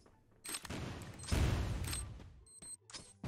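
Shots in the battle-royale game Free Fire Max, a crossbow among them, heard as several sharp bursts with fast clicking cracks, the loudest near the middle and a few quieter snaps toward the end.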